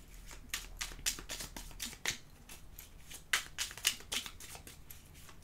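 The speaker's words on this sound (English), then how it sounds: "Shuffling the small little deck here." A small deck of tarot cards being shuffled, a steady run of crisp papery riffles and snaps, close and fairly quiet, with no talking.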